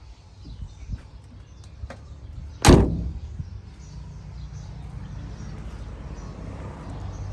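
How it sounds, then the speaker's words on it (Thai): Door of a T3 campervan slammed shut once, a loud sharp thud partway through, set against low steady background rumble and faint ambient noise. "เสียงปิดประตูยังเพาะอยู่นะครับ"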